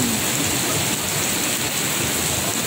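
A downpour of heavy rain keeps up a thick, constant roaring hiss, close and loud from start to finish, with no one speaking.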